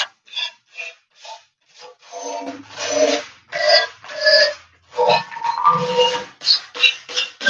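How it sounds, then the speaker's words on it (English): Normal-grit sandpaper rubs back and forth over a wooden surface in a home repair, giving a series of close, loud rasping strokes with short pauses between them. "Now just get some normal grit sandpaper. Sand this down right here."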